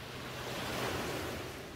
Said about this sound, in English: See the waves washing up onto the sand.